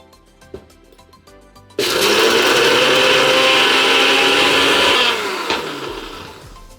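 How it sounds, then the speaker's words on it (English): A blender grinds Cheetos into fine crumbs with a loud, steady whirring roar that starts abruptly after quiet handling clatter, runs for about three seconds, then winds down. "Now we're gonna blend it."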